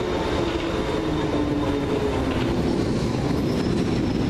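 A London Underground Piccadilly line train passes near Stamford Brook, a dense steady rumble of wheels on rail with a thin sustained whine riding on top, no voices.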